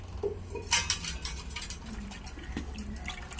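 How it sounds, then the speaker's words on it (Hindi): A spoon clinks and scrapes inside a cooking pot as kadhi made from besan, lassi and about a litre of water is stirred over the heat, giving a few sharp metallic knocks over a soft, continuous background hiss. "ऐसे चमचा हिलाते हुए इसको पकाएंगे जब तक कि इसमें उबाल ना आ जाए"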